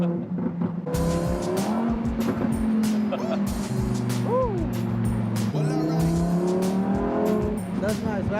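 A sports car's engine revs hard in sports mode, a loud, sustained roar that rises and falls in pitch through several throttle blips, with people talking over it.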